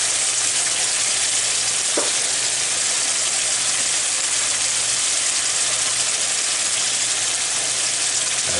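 Shrimp frying in a pan for shrimp curry, a steady, dense sizzle and hiss running throughout, with one brief knock partway through and no talking.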